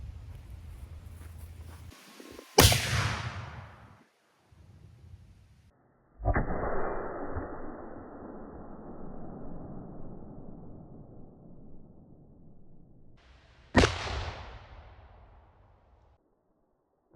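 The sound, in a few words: cannon firing a bouncy ball at a cinder block wall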